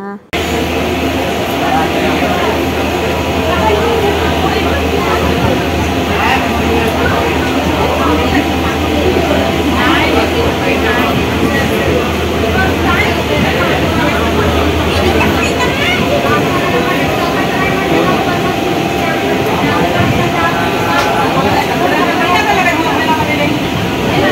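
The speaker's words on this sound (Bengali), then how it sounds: "আর এদিকে ট্রেনটাও চলছে, ট্রেনের আওয়াজে অনেক কিছু শোনাও যাচ্ছে না" A train runs past near Belonia, its loud, continuous rail rumble and roar filling the whole stretch, with a heavy low drone that eases after the midpoint while the clatter carries on.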